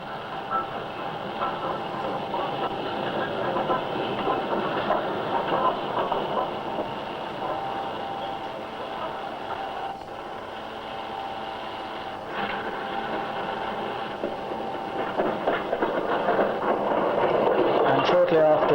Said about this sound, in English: a down train managed to struggle through